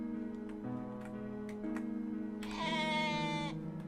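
Sheep bleat in the video game OneShot, several drawn-out wavering calls in sequence, with a higher, brighter bleat near the end and a quiet ticking underneath.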